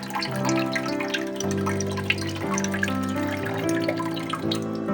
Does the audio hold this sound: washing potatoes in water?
yes